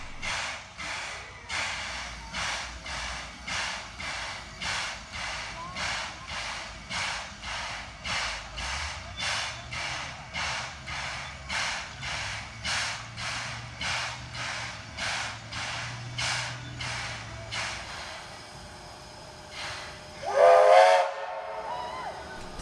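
Steam locomotive 3001 pulls away from Thelmere on a summer shuttle run in New South Wales, its exhaust chuffing in an even rhythm that slowly quickens. Near the end a short, loud whistle blast sounds.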